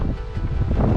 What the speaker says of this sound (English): So quite windy as you get out here to this point.